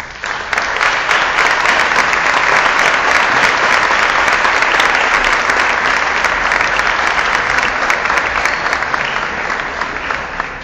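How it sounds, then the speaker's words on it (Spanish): Audience at a legislative ceremony for the Banner of Peace breaking into loud, sustained applause, dense and close, continuing steadily for about ten seconds with no talking over it. "Así que para ustedes un fuerte aplauso."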